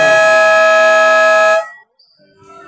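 A loud, sustained electronic buzzer blares for over a second at a basketball game, then cuts off, followed by faint crowd noise.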